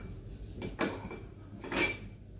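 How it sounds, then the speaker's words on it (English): A bar spoon clinks softly against a glass while gently stirring and pressing mint and sugar for a tropical julep, making a few faint, close metallic taps and scrapes. "we're just going to give it a light stir and press it ever so gently, just to help release some of that mint flavour"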